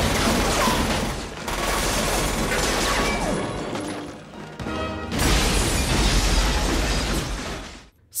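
A grenade blast from a film, the grenade tucked inside a coconut and thrown into a building: a loud, sustained roar of debris and rumble that dips briefly near the middle, then surges again before cutting off.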